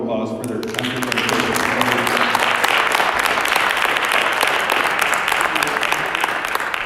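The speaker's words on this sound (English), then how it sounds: "let's give all three of these guys a round of applause" A school gym audience at a signing ceremony breaks into steady, close applause that starts just after a voice and runs loud and even to the end, without talk.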